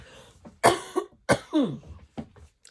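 Several hoarse coughs and rough throat clearing, close and fairly loud, arriving in short bursts with brief pauses between them and nothing else around.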